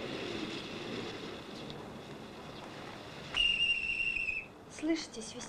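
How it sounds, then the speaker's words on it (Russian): A sharp, piercing whistle blows once and holds for about a second, then a couple of shorter whistle blasts follow, over a soft outdoor background with no talking. "Слышите, свистят?"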